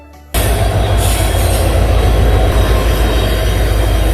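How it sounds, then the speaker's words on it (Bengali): A train rolls into a station, its loud steady rumble of wheels and cars filling the scene after a brief quiet start, with faint squeals and rail clatter throughout. "দেখতে পাইতেছো ট্রেন আয় পড়তেছে"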